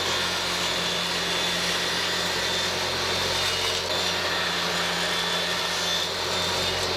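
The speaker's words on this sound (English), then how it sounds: "I think now would be an excellent time to cut the 45-degree miters on the ends of these." A saw cutting 45-degree miters on wooden pieces using a miter sled, a steady loud whirring drone that holds continuously throughout without pause.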